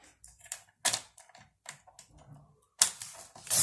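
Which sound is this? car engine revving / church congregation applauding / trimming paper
trimming paper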